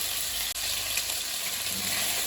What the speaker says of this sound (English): And I'm using chicken thigh here. You want to hear that sizzle.